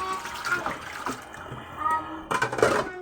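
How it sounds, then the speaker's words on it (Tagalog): Dishes are rinsed under running water, with intermittent splashing and trickling. A voice talks quietly underneath. "babanlawan ulit natin ng tubig"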